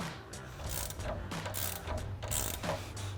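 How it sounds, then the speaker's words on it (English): Ratchet clicking in repeated bursts as it loosens the nut on the strut stud of a 2015 or later Ford Mustang front strut. The clicks are close and moderately loud, with no talk. "I've got my ratchet right up against the metal so that it holds. And then I'm just gonna start loosening that nut."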